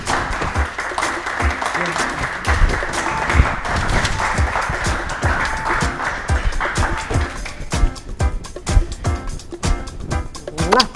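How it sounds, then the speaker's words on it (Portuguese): Applause for a guest on a talk show, a crowd clapping steadily with a host speaking over it, the clapping thinning toward the end into scattered claps. "Um aplauso para Carreas para mim."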